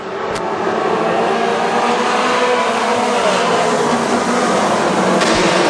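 WISSOTA modified race cars roar on a restart at Granite City Speedway, several engines blending into a loud, continuous, close pack of revving noise with no talk over it.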